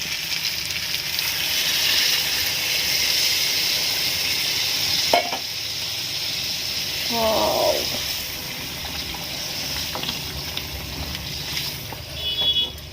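Water poured into a hot pan of chicken kasha curry sets off a strong sizzle and bubbling, close and fairly loud, with a clatter and brief pouring gurgle partway through and faint voices at times.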